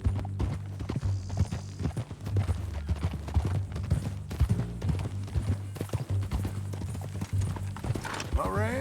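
Video game horse hooves clip-clop in a steady rhythm under a voice in Red Dead Redemption 2, with a low droning hum and a brief whinny near the end.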